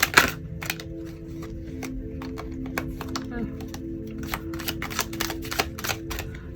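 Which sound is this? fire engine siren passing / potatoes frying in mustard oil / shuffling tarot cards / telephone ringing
shuffling tarot cards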